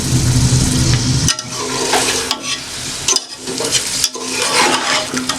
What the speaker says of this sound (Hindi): अभी मैं इसे 5 मिनट के लिए फ्राई करूँगी।